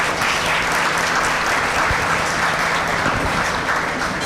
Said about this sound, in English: let's get them a hand clap